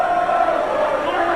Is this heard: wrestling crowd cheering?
yes